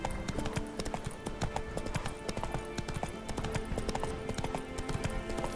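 A horse galloping in The Witcher 3, with rapid, regular hoofbeats close up and steady throughout, under faint background game sound.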